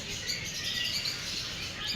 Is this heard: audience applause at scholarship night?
no